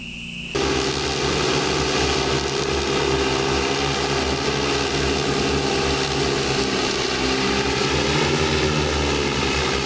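A heavy hexacopter strike drone approaches with a loud, continuous droning whine of several propellers that starts abruptly and holds steady, close and dominant throughout.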